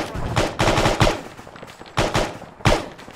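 Bursts of rifle and machine-gun fire in the military simulation game ArmA 3, four loud volleys with short pauses between them, sounding close and sharp.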